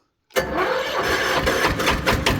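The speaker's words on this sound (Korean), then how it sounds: "시동 한번 걸어보도록 하겠습니다." A farm machine's engine fires up after silence and settles into a steady, loud mid-pitched running rumble with slight pulsing, close by.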